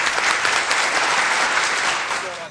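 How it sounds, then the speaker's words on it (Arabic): Studio audience at a TikTok-themed game show bursts into loud, dense applause that holds steady for a couple of seconds before easing off at the end. "صفقوا"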